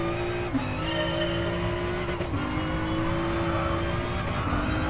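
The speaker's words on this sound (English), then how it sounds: "So notice you can hear the traction control kicking in around the turns." A sim racing game car drones loudly and steadily through the turns with traction control cutting in. The engine pitch briefly dips and stutters several times while it keeps running, with no talking.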